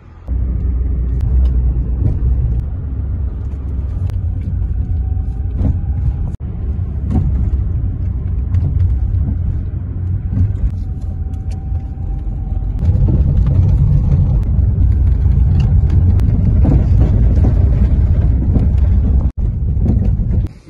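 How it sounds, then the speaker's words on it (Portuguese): An egg seller's car pulls up with a steady low rumble under wind buffeting the microphone, growing louder and fuller partway through, with no voices. "O carro dos ovos chegou!"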